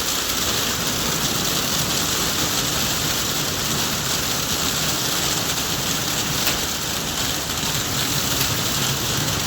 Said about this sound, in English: I don't know if y'all can hear it or not, but it's raining.